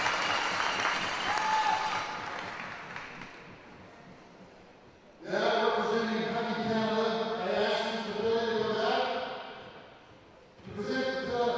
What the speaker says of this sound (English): Big round of applause for both teams.